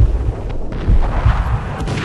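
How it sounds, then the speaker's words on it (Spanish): Shotgun blasts in the video game Max Payne, several loud booming shots with heavy low-end rumble spread across a couple of seconds, up close and dominating the mix. "con la escopeta entonces."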